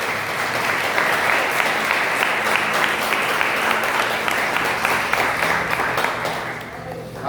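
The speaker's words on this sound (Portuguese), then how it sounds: "Vamos aplaudir para a glória do Senhor." Church congregation applauding loudly and steadily for several seconds, a dense continuous wash of many hands clapping close by, easing off slightly at the very end.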